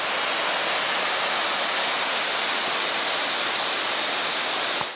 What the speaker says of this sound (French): Et là on a la belle cascade devant nous.